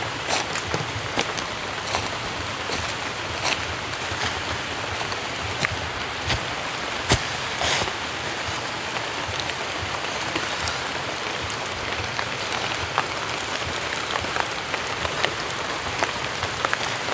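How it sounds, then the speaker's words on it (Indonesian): Rain falls steadily in a forest, a close, even patter with scattered sharper drips and drops hitting nearby surfaces, with no voices. "Benar-benar hujannya itu bikin asyik teman-teman."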